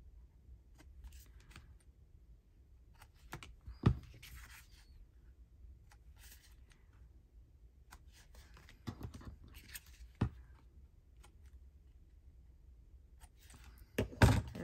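Scissors snipping the corners of paper during a craft session, a handful of quiet, sharp cuts scattered among soft paper rustling and handling noises, with a louder burst of snips near the end.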